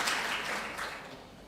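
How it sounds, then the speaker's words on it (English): Conference audience applause at a UNWTO Commission for Europe side event, a broad crowd clapping that starts strong and slowly tapers off, with no talk over it. "give him a very big round of applause for him and his team."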